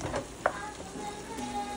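Hamburger meat frying in a pan with a soft, steady sizzle, plus one short clack of a utensil near the start. Faint and brief, with no speech.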